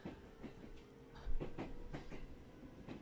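A train rolls along in the Persona 4 Golden video game, with a steady rumble, rhythmic clickety-clack of wheels and soft rattling, faint and continuous without talk.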